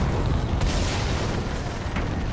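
A booming explosion in the futuristic shooter Battlefield 2142, a dense continuous rumble from start to end with a sharp burst near the close, no voices.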